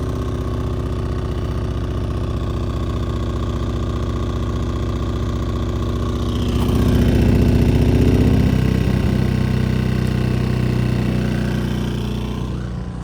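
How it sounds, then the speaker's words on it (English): A small gas generator powering a shop runs close by on a cold day, a steady droning engine that swells a little louder midway and holds there, with no talk. "It's a small gas generator."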